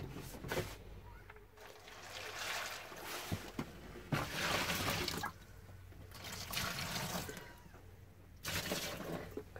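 Water splashes and trickles in bursts while being poured and stirred into a pony's soft feed mash, close by, with short pauses between pours.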